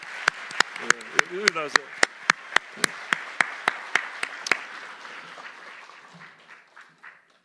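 A church congregation applauds during a Korean sermon: sharp, evenly spaced claps ring out close by over a broad crowd wash, a voice speaks over it, and the applause fades away over the last few seconds.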